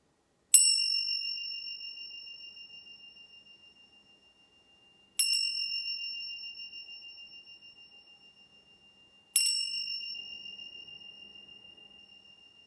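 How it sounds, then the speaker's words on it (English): Three clear meditation chime strikes spaced about four seconds apart, each ringing with a bright, pure tone that slowly fades, with silence between. "So 3 chimes."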